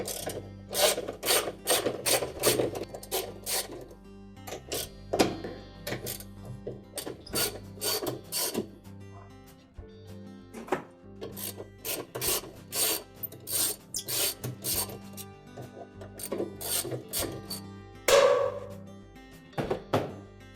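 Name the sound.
removing the inner basket mounting bolts of a Maytag washer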